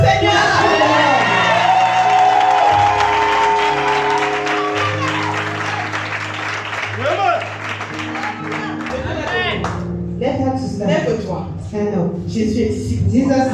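A church congregation at a deliverance service cheering and acclaiming the Lord, a loud sustained roar of voices, shouts and whoops with applause, swelling and ebbing over a minister's speech.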